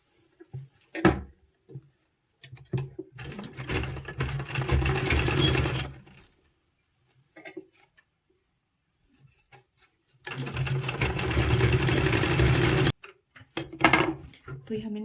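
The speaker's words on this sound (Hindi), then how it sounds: "तो ये हमने नीचे के कोने सिल दिए हैं।" A sewing machine stitches the bottom corners of a small girl's party-wear wedding dress in two sustained runs of whirring, each a few seconds long, with quieter fabric handling and pauses between them.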